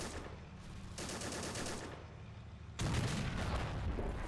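Machine gun fire in a WWII video game, with bursts of rapid shots at a moderate distance. The firing swells into a louder, denser stretch near the end.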